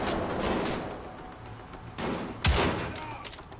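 Gunfire in Wolfenstein: The Old Blood comes in scattered bursts, loud at the start, then a pause before heavier thudding shots near the end.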